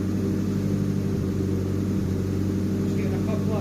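The engine of a Nissan Pulsar GTI-R runs at a steady idle, with a constant low hum and a few faint irregular exhaust spits close by.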